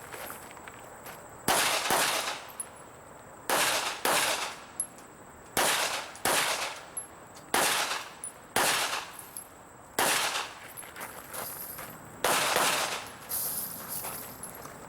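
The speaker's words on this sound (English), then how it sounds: "This shooter leaves the magazines and continues shooting." Pistol gunfire at an IDPA stage: about ten quick strings of two or three sharp, loud shots each, separated by short pauses while the shooter keeps moving through the course.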